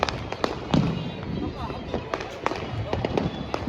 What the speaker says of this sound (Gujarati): અહીંયા આ રીતના જ ફટાકડા ફૂટતા હોય,